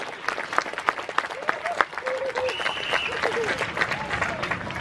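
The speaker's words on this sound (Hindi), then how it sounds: "जोरदार तालियां होनी चाहिए।" Crowd applause at a Republic Day dog show, a steady wash of many hands clapping at moderate distance, with a voice talking and a few whistle-like tones over it throughout.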